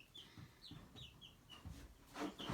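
Laying hens cluck inside a coop with an inclined floor, giving a series of short, quiet clucks and a few higher calls at an irregular pace, the birds growing somewhat louder toward the end.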